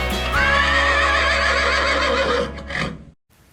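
A horse gives a long, loud whinny that rises and then trails off, alone and close, with a faint clip-clop of hooves under it before it fades to silence.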